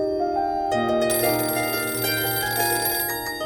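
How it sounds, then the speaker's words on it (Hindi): A telephone rings steadily in a home setting, its bright trilling tone continuing alone and fairly loud for several seconds against a faint low background hum. "न जाने कौन नालायक फोन कर करके मेरे अखबार का समय खराब कर रहा है।"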